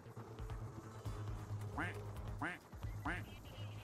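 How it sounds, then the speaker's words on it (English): Video game duck quacking three times in steady succession, clear and fairly loud, over a continuous game hum and low background talk. "Where the fuck is this duck coming from?"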